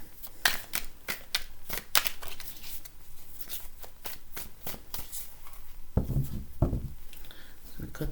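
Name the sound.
tarot cards being shuffled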